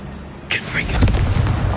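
A Confringo blasting spell goes off in Hogwarts Legacy, a sudden burst followed by a rumbling, crackling explosion that swells and lingers for over a second.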